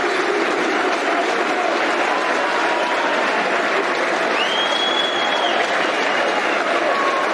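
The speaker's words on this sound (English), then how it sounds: "Good applause." Stadium crowd applauding a substitution at a Millwall versus Nottingham Forest football match, a broad steady wash of clapping from thousands of fans filling the whole stretch, loud and unbroken with distant crowd noise beneath.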